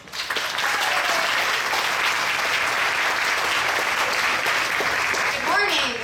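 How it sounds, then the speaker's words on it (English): Outdoor crowd at a rainy memorial fun-run event applauding steadily for several seconds, a dense continuous wash of clapping that fades slightly at the end. "Let's get a round of applause for Taryn Klein."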